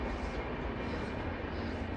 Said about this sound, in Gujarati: train Jaisalmer superfast express